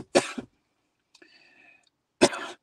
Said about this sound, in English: I'm not even trying to cough.